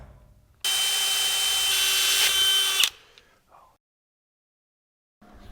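A drill bores a hole into the end of a metal part in a workshop with a steady, high whining run of about two seconds, followed by brief clicks and near silence.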